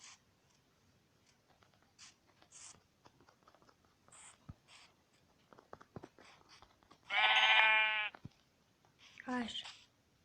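Sheep bleating in Minecraft, two loud nearby bleats in the second half, separated by quiet clicking and soft tapping, with no talk over them.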